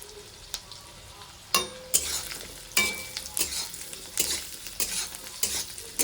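Large diced carrot cubes frying in a pan with repeated spatula stirs and scrapes over a steady sizzle, several loud clattering strokes in irregular rhythm, close up, no voices.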